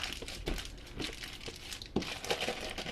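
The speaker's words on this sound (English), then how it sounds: "zip the bag up" Plastic freezer bag filled with ground beef being sealed, giving a steady run of close crinkling and crackling plastic with a few sharper snaps partway through, no voices.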